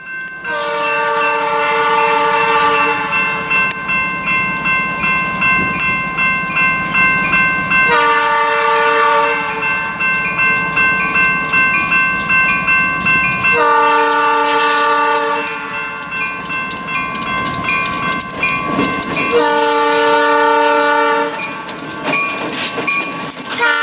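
A freight train on the former Atchison, Topeka and Santa Fe line in Tulsa sounds its horn in four long, loud blasts with short gaps while the rumbling train passes close by.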